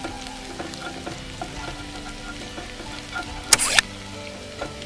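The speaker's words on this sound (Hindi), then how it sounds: "अभी हम मिर्ची बारीक कटी हुई डाल देंगे 1/2 चम्मच।" Finely chopped green chillies go into a frying pan for banana chilli, giving a low steady sizzle with soft stirring taps and one short loud scrape or clatter near the end, close and without talk.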